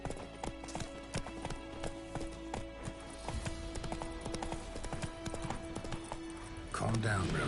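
Roach, a horse in The Witcher, gallops in a steady clip-clop of hooves under a continuous game soundtrack, with a voice speaking briefly near the end.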